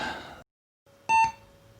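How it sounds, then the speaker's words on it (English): A short electronic beep pair rings out clearly from an IBM Aptiva computer starting up, over a low steady hum, following a brief burst of noise and a moment of silence. "I just turned her on, and we got beeping"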